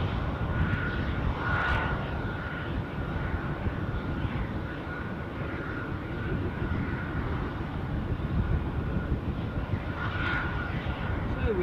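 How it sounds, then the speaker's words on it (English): A Condor airliner in classic livery, arriving from Samos, on final approach at Dusseldorf airport: a steady, broad jet engine roar holds for the whole stretch, with a faint whine riding on top and wind buffeting the microphone. "So we have a Condor in classic livery from Samos on finals."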